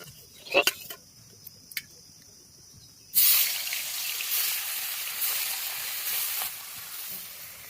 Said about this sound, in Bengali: তো চলুন এবার মাছটাকে ভাজা যাক।